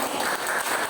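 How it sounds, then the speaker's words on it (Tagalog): A church congregation applauds in a brief, dense wash of clapping, steady and fairly even throughout. "Bigyan naman natin ng palakpak ang Panginoon."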